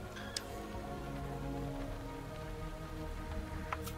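Steady rain patters across a surface in the Diluvian Winds town-building game, a soft, even hiss with occasional faint ticks, and no voices.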